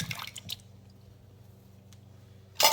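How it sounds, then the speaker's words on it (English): Canned sliced peaches and their juice are poured into a pie dish, with wet squishy splashes at the start, a quiet stretch, then a louder gush at the end. "So I take can 1, including the juice,"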